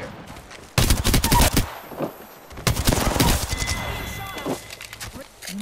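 Apex Legends gunfire: loud bursts of automatic fire from a Prowler and a Wingman, sharp near volleys separated by brief gaps, with someone talking over the shooting.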